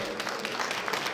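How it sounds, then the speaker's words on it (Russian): Audience applause at an award ceremony closing an exhibition, dense steady clapping from a crowd filling the whole moment. "Получите свои аплодисменты."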